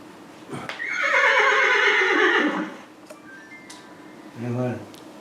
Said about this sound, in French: Il y a le son qui est joué, par exemple c'est le cheval